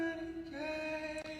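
A soul vocal sample with a sustained, tonal voice-like line over soft backing, a slight shift in the middle and a brief dip near the end, moderately quiet and close.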